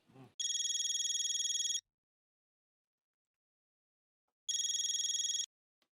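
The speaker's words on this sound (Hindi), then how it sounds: "जीतू भाई को फोन लगाओ।" An electronic phone ring sounds twice, each long trill lasting over a second with a pause of silence between them.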